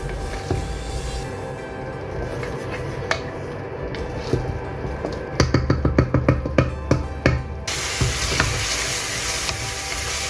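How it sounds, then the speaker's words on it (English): Onion paste sizzles in a pan over medium-high heat, a continuous hiss broken by a run of rhythmic scraping, squishing strokes as it is stirred, fairly close and with no talking. "it's been 5 minutes since I've been stirring this onion paste"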